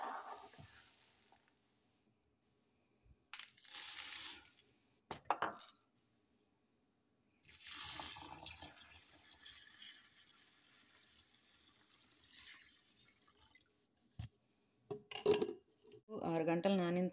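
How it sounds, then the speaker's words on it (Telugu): Water is poured over two cups of urad dal to soak them in a kitchen, heard as splashing and trickling bursts along with light clinks of a vessel, set among quiet gaps. "నేను ముందుగా అయితే 2 కప్పులు మినపప్పు నానబెట్టుకుంటున్నాను"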